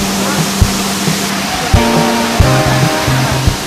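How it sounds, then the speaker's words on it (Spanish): Loud, constant roar of a waterfall, the Cascada del Amor in Ecuador, broad and steady, with low tonal sounds and a few soft knocks underneath. "Ahí tienen por qué le dicen la cascada del amor"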